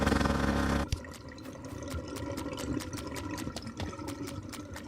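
Water blasting out of a drain pipe in the plumbing game Drain Sim: a loud rushing burst that cuts off sharply, followed by a steady hissing flow of water dotted with rhythmic clicking ticks.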